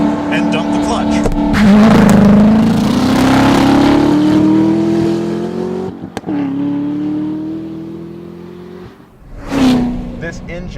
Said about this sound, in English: We're going to try launch control on a Corvette ZR1.